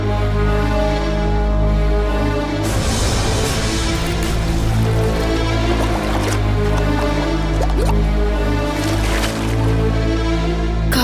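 Turmeric water pours and splashes in a steady, loud stream in a Tamil TV drama scene, with bursts of heavier splashing over a constant background of music.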